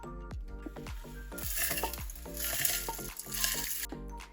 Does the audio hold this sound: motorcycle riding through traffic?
no